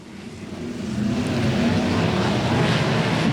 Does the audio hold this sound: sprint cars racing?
yes